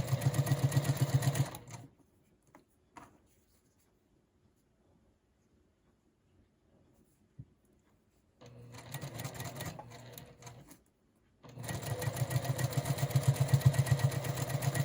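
A sewing machine stitches quilt units onto a block in fast, even bursts of running noise at the start and again near the end, separated by a long quiet stretch with a few faint taps.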